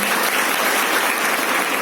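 An audience at a seminar gives a short burst of loud, dense applause, steady and unbroken from start to finish.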